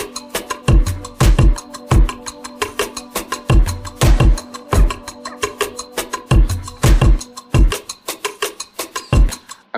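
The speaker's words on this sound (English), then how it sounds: "So the drums sounded something like this." A sampled drum loop for an instrumental track thumps along in a steady pattern of punchy kicks and snappy hits, loud and unaccompanied by voice.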